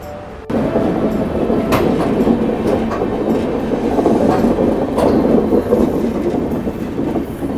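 A train rolls slowly through a lit tunnel where work is under way, giving a steady, loud rumble with rhythmic wheel clatter and occasional clanks, heard from inside the carriage.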